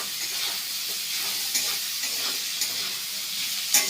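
Steady frying sizzle of an egg in a hot pan, a continuous bright crackle with a few sharper pops, no voices.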